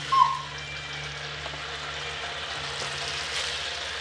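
Risoles fry in hot oil with a steady, broad sizzle that lasts throughout. A brief whistling tone comes near the start, and no one speaks.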